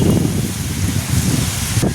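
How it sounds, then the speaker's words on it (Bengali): Strong wind and rain lash down during a storm, a steady, loud broadband roar of gusts and falling rain that holds throughout with no voices. "এত জোরে হাওয়া দিচ্ছে। আমি স্টিল ভিজেও যাচ্ছি।"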